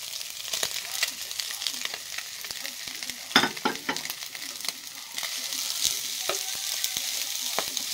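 Garlic fried rice with a piece of fish sizzles in a pan while being stirred, close up, with frequent scraping strokes and one louder clatter partway through.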